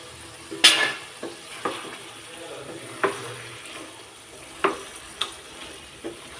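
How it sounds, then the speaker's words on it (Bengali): Spices fry in oil in a pan, with a faint low sizzle broken by scattered sharp clinks and scrapes of a spoon against the pan. "তো সমস্ত মশলা ভালো মতো একটু তেলে কষিয়ে নিতে হবে।"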